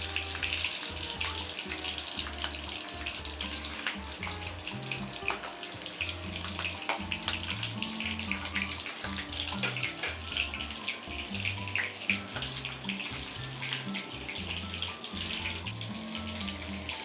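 Mysore dal and eggs frying in a pan, a steady, dense crackling sizzle that carries on without pause for the whole stretch, fairly close and loud, with no voices.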